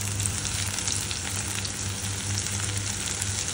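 Tomato frying with onions in a pan for a dried fish curry, giving a steady, close sizzle with a faint low hum underneath and no talk.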